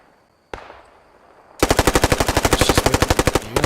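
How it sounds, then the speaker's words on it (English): A Thompson submachine gun fires in the WWII shooter game Post Scriptum, a loud close burst of rapid, evenly spaced shots after a single earlier report and a short lull. "So you got Audible back here as a squad leader with his Thompson. He's putting some fire across the road."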